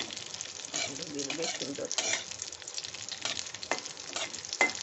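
Spices with cloves and a bay leaf frying in a pan while being stirred, a close continuous sizzle with scraping spatula strokes, and a person briefly speaking over it.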